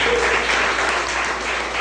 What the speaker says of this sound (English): One more round of applause for our featured poet for the night.